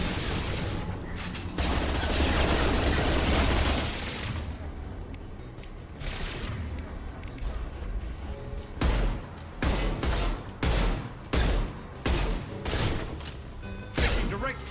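Gunfire in a space combat game, first a dense sustained barrage, then a rapid rhythm of separate heavy blasts repeating about every half second, loud and close with speech mixed in.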